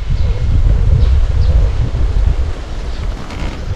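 Strong wind buffets the microphone with a constant low roar and rumble, loud and unbroken throughout with no voices.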